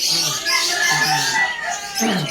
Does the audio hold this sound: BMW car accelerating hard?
no